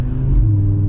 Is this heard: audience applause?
no